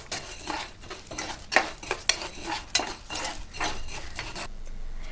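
Lentils (urad dal) dry-roasting in a pan for idli podi, stirred with a metal spoon that scrapes and clinks against the pan in a loose rhythm, with faint rustling of the grains, close and fairly loud.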